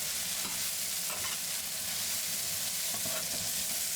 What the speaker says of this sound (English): Keep stirring for another minute.